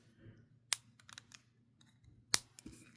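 A plastic Spinmaster Superman action figure's joint is twisted, producing a few quiet, sharp clicks and a cluster of small ratcheting ticks in a hushed room.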